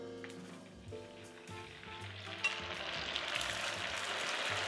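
Shrimp frying in hot cooking oil, a steady, close sizzle that builds and brightens over a few seconds, with low background hum and occasional faint clatter.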